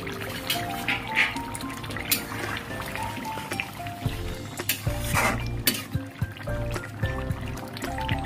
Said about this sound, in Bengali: ঢাকাটা এবার খুলে দিচ্ছি।